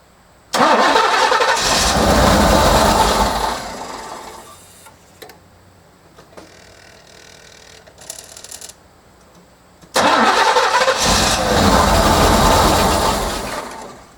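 A 1986 Camaro IROC Z28 after a fuel pump replacement, cranking and catching twice: a loud, close burst of starter and engine roar dies out, a quiet stretch with faint ticking follows, then a second loud start.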